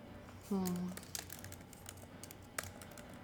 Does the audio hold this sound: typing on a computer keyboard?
yes